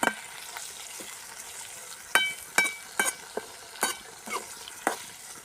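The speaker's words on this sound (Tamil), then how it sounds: "நல்லா பொறிஞ்சிருச்சு எண்ணெயில் இஞ்சிலாம்" Ginger fries in hot oil for village-style cabbage puffs, giving a soft, steady sizzle up close, broken by sharp spoon clinks and scrapes against the pan at irregular moments.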